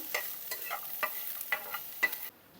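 Chopped garlic sizzles lightly in a pan with repeated scraping and stirring strokes, close by, no voices; it cuts off abruptly near the end.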